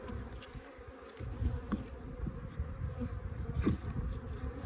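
Honey bees buzzing during a hive removal from under a shed floor in Arizona, a low continuous droning hum of many bees close by, with faint handling knocks.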